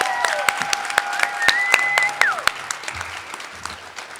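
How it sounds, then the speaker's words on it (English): A university debate audience at the Reagan Library breaks into applause, dense clapping filling the hall with sharper individual claps on top, while tones and a few voices sound beneath before the clapping thins out. "a loud round of applause to support our debaters today"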